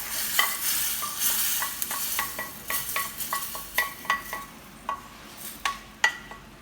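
A hing tempering in ghee stirred into rasam, a sizzling base broken by a rapid series of scraping, clicking spoon strokes against the pot, close and fairly loud.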